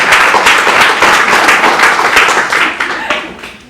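A small group in a classroom-like room claps for Adeline, brisk and close, a short burst that thins out toward the end.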